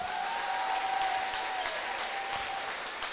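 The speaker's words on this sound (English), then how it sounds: "Let's give them a big round of applause." A crowd at a volleyball all-star series gives the seniors a sustained round of applause, dense and even clapping throughout with a faint tone running underneath.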